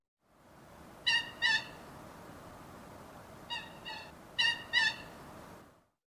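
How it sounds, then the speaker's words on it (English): A coot gives sharp, high, tonal calls in paired bursts, two close together near the start and two more pairs later, heard clearly against a soft steady background hiss. "Coot."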